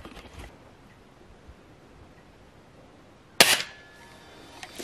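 A sharp, close shot rings out during a cabin shooting contest, followed by a short ringing tail; a fainter click sounds at the start, with quiet stretches between.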